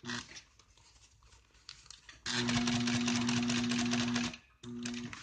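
Sewing machine stitching automotive seat upholstery, a short low run followed by a louder steady mechanical whir of rapid needle strokes lasting about two seconds, a brief stop, then another burst, close up.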